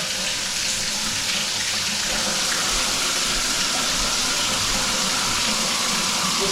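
Water runs steadily from a faucet in a condo being readied for new tenants, a constant, fairly loud hiss and splash lasting the whole stretch with no voices.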